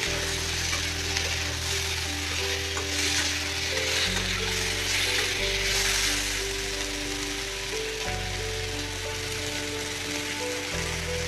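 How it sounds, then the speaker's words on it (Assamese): Vegetables sizzle and hiss steadily as they stir-fry with chaat masala in a pan over a high flame, a dense and continuous frying noise heard close up with no talk. "চাট মছলা, সেইখিনি আমি হাই ফ্লেমত ফ্ৰাই কৰিম।"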